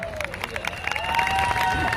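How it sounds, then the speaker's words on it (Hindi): Loud applause and cheering from a seminar audience in Allahabad, a dense crowd roar with clapping that swells toward the end, mixed with whistles and some voices. "जबरदस्त तालियां।"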